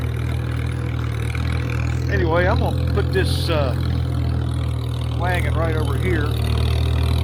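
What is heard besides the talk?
McCormick Farmall 350 tractor engine idling, governor kicking in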